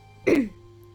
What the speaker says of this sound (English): Pardon me for the clearing my throat.